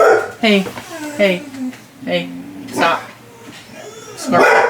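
A dog indoors barks and yips repeatedly at a garbage man outside, sharp, close barks in bursts, with a person briefly telling it to stop.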